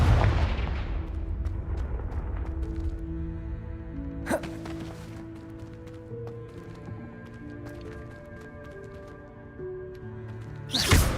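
A Confringo blasting spell in Hogwarts Legacy erupts in a loud booming explosion that fades into a lingering rumble, with a sharp blast near the middle and another strong burst at the end over faint music-like tones.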